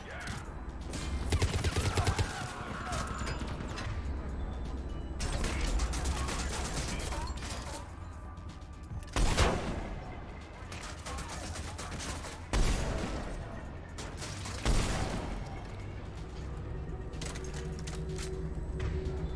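Sniper rifle fire in Mass Effect 3 amid ongoing combat, several sharp loud cracks spaced seconds apart over a dense background of battle noise and mechanical clatter.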